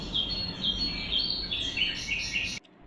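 Birds call in green surroundings at Rajendra Eco Resort outside Dhaka: repeated high chirps and tweets at moderate distance over a low background hum, ending abruptly.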